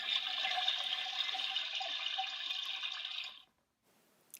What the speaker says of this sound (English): Daniel knows to put the lid down before you flush